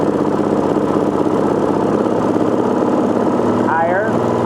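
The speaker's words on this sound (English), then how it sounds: "We're going to let the bike idle. I'm going to roll this up" A Gen II four-stroke motorcycle engine idles steadily at close range during a carburetor roll-up test, a continuous low chugging with a brief sweeping tonal change near the end as the throttle is eased open.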